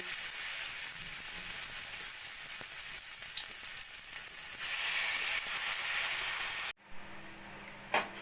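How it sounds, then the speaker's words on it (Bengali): Mustard flower fritters frying in hot oil, giving a steady close sizzle and crackle that holds for several seconds before dropping off, then resuming more faintly near the end. "বাকি বড়াগুলো ভেজে নেবো"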